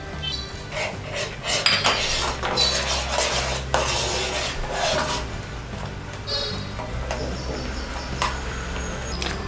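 Custard is stirred in a pan on a stove, with a spoon repeatedly clinking and scraping against the metal in a steady, close, busy rhythm and no talking.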